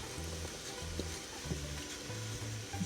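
A mix of coconut oil, peanut butter and honey cooks in a pan, a soft continuous sizzle with faint stirring scrapes and a low repeating hum underneath, quiet and close, no talking.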